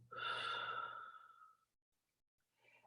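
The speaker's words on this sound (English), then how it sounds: "I'm letting it out through my mouth." A slow, audible exhale through the mouth, a breathy rush lasting about a second and a half that fades out, followed by silence and a faint second breath starting.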